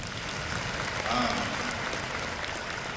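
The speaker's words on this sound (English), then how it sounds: "can you just clap your hands?" Hands clap through an audience at the NHCCE 2024 opening, a soft, diffuse patter of scattered claps heard from a distance with murmuring voices.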